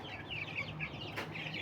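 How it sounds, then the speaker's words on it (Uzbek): Black chicks and hens in Andijan cluck softly in short, repeated calls over a quiet background, fairly near, with no talk. "Andijondagi qora jo'jalarimiz"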